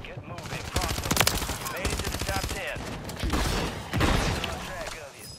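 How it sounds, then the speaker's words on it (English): Repeated shotgun blasts in a first-person shooter game, loud close shots fired in quick succession over a busy battle din, with people talking over the gunfire. "this shotgun is insane"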